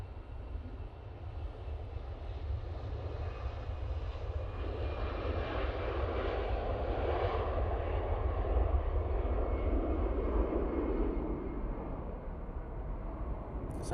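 A TUI heavy jet airliner departing Manchester Airport for Paphos gives a steady, broad engine roar that holds for the whole stretch at moderate distance, with a deep low rumble under a wide mid-range wash.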